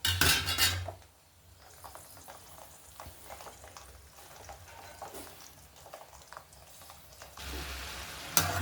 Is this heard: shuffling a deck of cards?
no